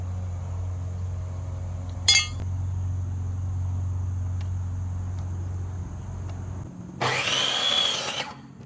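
Wooden board for a garden post being cut at an angle with a power saw outdoors; a steady motor hum with a sharp knock early on, then a loud burst of cutting near the end.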